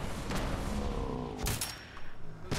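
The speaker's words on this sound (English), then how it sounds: "Let's see if I can squeeze off a headshot." Gunfire from the Fallout 4 video game, a couple of sharp shots cutting through a busy game soundscape, with a short burst near the end.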